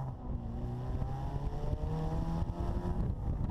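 A Bugeye Sprite with a five-speed gearbox accelerates to about 4,200 RPM, its engine note rising steadily and droning loudly from inside the car over road and wind rumble.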